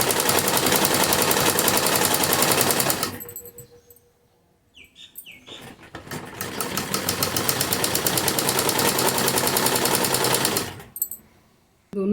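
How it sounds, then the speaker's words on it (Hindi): An electric sewing machine runs a straight seam down a kurti in two loud, fast, rhythmic bursts, with a quiet pause between them where the machine stops and fabric is handled. "इसलिए हम इसको नीचे तक ऐसे ही सीधी सिलाई लगा देंगे।"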